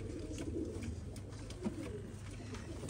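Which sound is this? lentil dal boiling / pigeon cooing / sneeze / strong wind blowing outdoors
pigeon cooing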